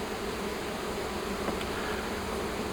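Honey bees buzz in a steady, dense hum from a colony that has just been fed syrup, close by and continuous with no voices.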